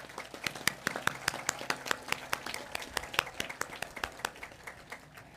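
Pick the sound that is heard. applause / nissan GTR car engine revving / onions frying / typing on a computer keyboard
applause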